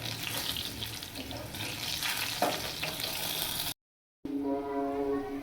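Dried red chilli tempering sizzles in hot oil for masoor dal, a close, continuous crackling hiss that cuts out briefly and then resumes.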